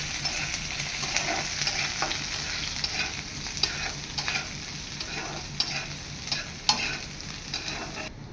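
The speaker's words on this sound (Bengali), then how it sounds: "এবার পেঁয়াজগুলো দিলাম" Onions fry in a pan for a liver chorchori, with a steady sizzle and repeated scraping stirs running throughout at close range, with no talk.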